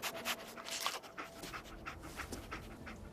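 Dogmeat, the companion dog in the video game Fallout 4, sniffs and pants in quick, soft bursts close by, faint and steady over a short stretch.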